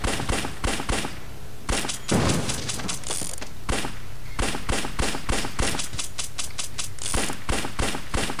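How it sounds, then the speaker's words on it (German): Rapid video game gunfire cracks in quick succession, with dense repeated shots and a few heavier thuds, loud and continuous throughout. "Schön mit unserer geilen Knarre hier alles abschießen."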